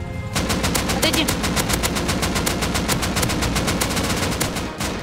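Automatic gunfire in the Rust video game, a rapid sustained burst of loud, evenly spaced shots lasting several seconds before cutting off.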